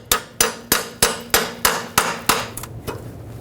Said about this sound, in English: I'm going to put a 13mm socket on and hammer it.